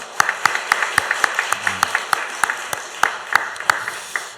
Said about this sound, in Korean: 박수로 영광을 돌리십시다